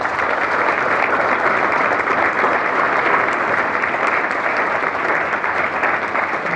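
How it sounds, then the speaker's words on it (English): Sustained applause from a large audience, many hands clapping in a dense, even wash that holds steady throughout. "a round of applause, please"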